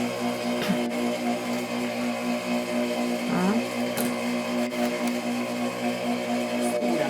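A sewing machine stitches a French seam at presser-foot width, giving a steady, close mechanical hum with a continuous rhythmic whir and a few brief shifts in pitch as the stitching runs on.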